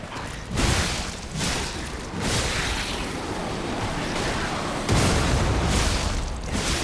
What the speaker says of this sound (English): Oh, wow, that destroyed the ship.